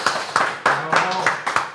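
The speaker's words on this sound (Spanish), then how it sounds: "Gracias por esos aplausos inmerecidos." Clapping from a few hands welcomes a guest onto a rock podcast. The sharp, irregular claps overlap with talking.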